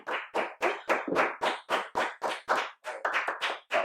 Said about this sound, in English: don't clap for yourself